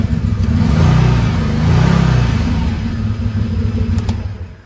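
Engine and exhaust of a 2020 Can-Am Maverick Sport side-by-side, close and loud, the revs climbing and falling in a couple of throttle blips over a throaty idle, with no talking.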